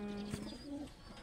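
A pet pigeon coos softly in a short, low, rolling call, faint and close in a quiet space with no voices.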